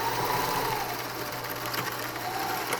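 A sewing machine runs a straight stitch along the side of a protective face mask, a steady close mechanical whir that holds for a few seconds without pause.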